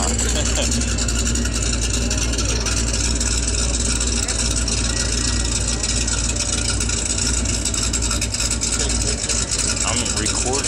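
A Plymouth Cuda with a 440 Hemi engine running on a dyno, a loud, constant, heavy engine roar held steadily throughout with a voice talking underneath.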